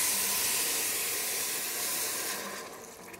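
Pear compote simmering in pure grape juice with star anise inside a covered pot, giving a steady broadband hiss of steam and bubbling that stays constant throughout, fading slightly near the end.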